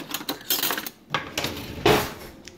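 Metal spoon pulled from a cutlery drawer in a home kitchen, several quick bright clinks and rattles of silverware and dishes, close and fairly loud, with no talking.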